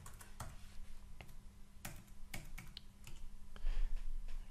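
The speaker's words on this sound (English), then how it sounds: "I'm just going to type in runtime Shiny" Close, quiet keystrokes on a computer keyboard, a scattered handful of sharp clicks over a low steady room hum, with no voices.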